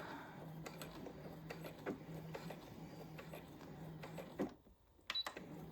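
A sewing machine back stitches the end of a 1/4 inch seam on a beginner zipper pouch: a steady motor hum with rapid mechanical ticking, a brief pause, then a short final burst of stitching.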